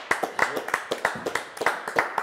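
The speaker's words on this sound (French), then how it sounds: "On peut vous rendre sur le coin live du GLPP, on les applaudit." Light clapping from a small group welcoming a live music set on a French radio show, sparse separate hand claps in an uneven rhythm, fairly close and modest in volume.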